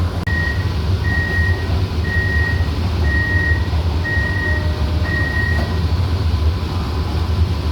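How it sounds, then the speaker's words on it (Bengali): Repeated electronic warning beeps, six evenly spaced tones, sound as the doors of an AC local train close at a railway station, over a loud steady rumble of the train and platform. "দরজা বন্ধ হয়ে গেল"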